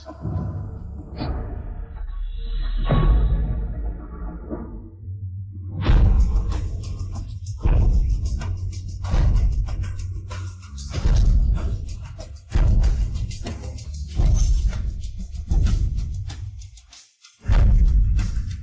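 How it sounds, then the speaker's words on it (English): A large temple drum struck in heavy, booming hits, first a few scattered blows, then a steady run of loud, evenly spaced beats with a short pause near the end. "it's the sound of the drum"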